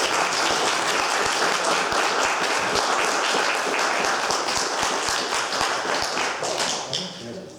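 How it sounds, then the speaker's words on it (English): An audience gives a round of applause after an astronomy talk by Dr. Andrew Conway at an observatory, dense steady clapping filling the room for several seconds before tapering off, with some talk mixed in. "Can we have another round of applause for Andrew?"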